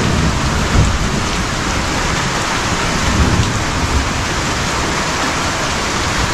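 Heavy afternoon rain pours down on a farm in a thunderstorm, a dense, loud, continuous hiss of downpour with low rumbling thunder beneath it and no voices.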